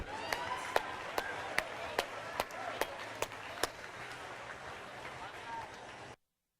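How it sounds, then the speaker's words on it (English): Faint, evenly spaced claps ring out at a 2016 Texas Robotics Invitational competition, a steady rhythmic patter of about ten sharp hits over a distant crowd murmur, then cut off. "Let's give a big round of applause to our number 5 seed in their valiant effort."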